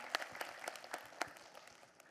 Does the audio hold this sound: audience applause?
yes